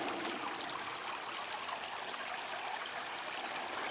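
The River Avon flows steadily and broadly, a constant mid-loud rushing wash of water with no breaks, close by and heard alone.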